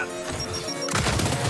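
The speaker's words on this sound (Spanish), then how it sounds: "¡Granada fuera!" A thrown grenade in Gears 5 goes off with a sudden loud blast that swells into a dense crashing burst of debris, following a short stretch of game ambience.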